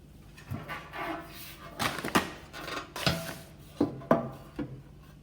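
An oven tray handled on a kitchen counter while preparing flattened dough, with several irregular metallic clatters and scrapes, close and moderately loud, and no talking.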